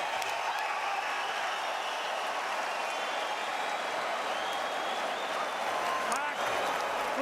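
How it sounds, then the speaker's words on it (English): Steady, dense applause and cheering from a fight crowd closing out a round of the Big Chin Hunt versus Bigfoot bout, a continuous wash of clapping with faint voices mixed in. "Stand and cheer, ladies and gentlemen."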